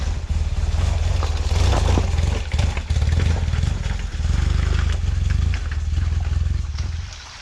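BMW GS copy motorcycle assembled from cast-off parts with a heavy-flywheel boxer engine, its loud deep throbbing exhaust pulsing steadily while riding, swelling and easing with throttle changes.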